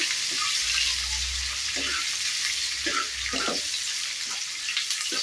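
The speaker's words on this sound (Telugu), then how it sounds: "ఇప్పుడు ఆనియన్స్ వేసుకుంటున్నా. ఆనియన్స్ కలర్ చేంజ్ అయ్యేదాకా ఫ్రై చేసుకున్నాము" Onions sizzling and frying in hot oil in a pan for a dry fish curry, a steady close hiss with a low rumble and occasional stirring clatters, no talk.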